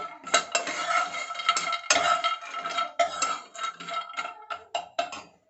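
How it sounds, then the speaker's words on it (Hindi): Cashews and almonds dry-frying in a pan without oil rattle and scrape as a utensil stirs them, in repeated close metallic clinks and scrapes with no talk. "अब काजू और आलमंड साथ में फ्राई कर रही हूँ।"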